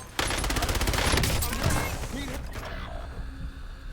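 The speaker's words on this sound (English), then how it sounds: "Loading fresh mag" Metallic clicks and clacks of a magazine reload in Call of Duty Warzone follow a burst of gunfire, loud and close at first, then fading into quieter mechanical rattles.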